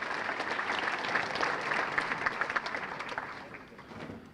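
Sustained applause from a banquet audience at a sports hall of fame enshrinement, honoring past inductees and committee members; dense steady clapping fills the room, swelling slightly and easing off toward the end.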